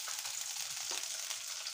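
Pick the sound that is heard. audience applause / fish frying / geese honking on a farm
fish frying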